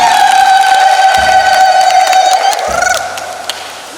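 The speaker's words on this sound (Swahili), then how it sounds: "Kwa makofi na vigelegele." A congregation at a Catholic church wedding in Zinga, Bagamoyo, raises loud, sustained high-pitched ululation, with wavering trills and a crowd murmur beneath, close and intense throughout.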